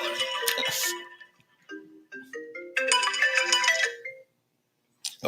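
A mobile phone ringtone goes off during a lecture on Alabama State University history, a loud melodic chime of bright rising notes playing in short bursts before cutting off.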